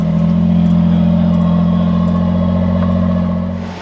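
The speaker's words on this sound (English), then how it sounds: "And you can enjoy that TRD exhaust." A Toyota off-road vehicle with a TRD exhaust drones steadily at a low, even rumble, holding a constant engine note while crawling, close and loud with no talk.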